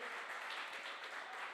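Congregation applauding in a church: a dense, steady patter of many hands clapping together, moderately distant and continuous throughout.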